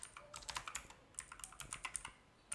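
Quiet keystrokes tapping on a computer keyboard while entering switch configuration commands, a quick irregular run of light clicks and presses with short pauses, alone and fairly faint.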